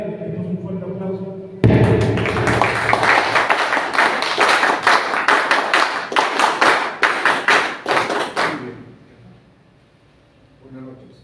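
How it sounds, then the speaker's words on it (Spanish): An audience at a book presentation bursts into firm, close applause after a moment of talking. Crisp individual claps stay dense for several seconds, then thin out and fade to quiet room tone. "le pedimos un fuerte aplauso"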